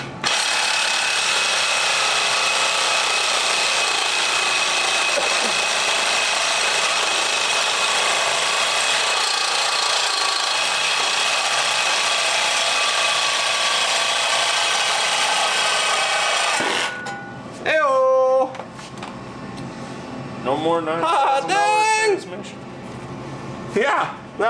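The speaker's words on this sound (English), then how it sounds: "I come with the sander and sand onto the pan there." A power sander with a flap disc grinds on a metal TH400 transmission pan, producing a loud, steady, close abrasive whine for most of the time before cutting off, followed by brief squeaky scraping sounds.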